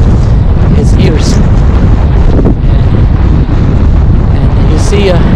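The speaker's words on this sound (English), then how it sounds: "I'm showing you everything now to hear the sound of the wind." Strong wind roars steadily across the microphone outdoors, a loud continuous buffeting rush with occasional gusty swells and no speech.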